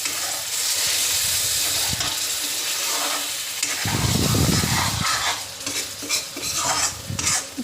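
White mustard paste with fish roe fries in a pan, a steady sizzle broken by repeated scraping and stirring strokes of a utensil against the pan, close and continuous, with no voices.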